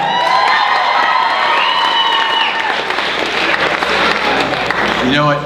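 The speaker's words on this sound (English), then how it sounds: "Round of applause for Batame!" Loud, dense applause and cheering from a crowd at a school pageant, with whoops and high shouts, continuous throughout and ending abruptly as a voice starts.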